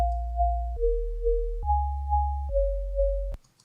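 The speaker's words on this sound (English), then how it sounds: "and then I turn on oscillator B, which is also a sine wave," Two layered synth sine oscillators play a stepped sequence of four notes, a deep bass tone beneath a higher pure tone set an octave plus seven semitones up, ending abruptly with a click.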